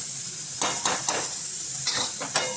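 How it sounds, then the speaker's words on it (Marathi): Fennel seeds dry-roast in a pan under a steady, dry hiss, with a run of quick rustling scrapes as the seeds are stirred and tossed. "आपण बडीशीप भाजून घ्यायची"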